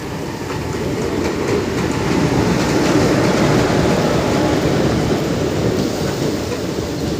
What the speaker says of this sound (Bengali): ঠিক আছে, ট্রেন ঢুকে গিয়েছে।